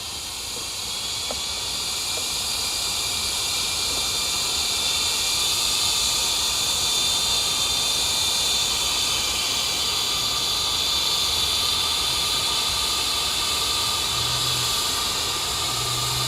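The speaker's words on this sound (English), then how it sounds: "See how it just slowed down a little bit, the blower." A Yarbo robot leaf blower runs steadily in a yard, piling leaves. It makes a continuous, loud, airy roar with a constant hiss and no pauses or talk.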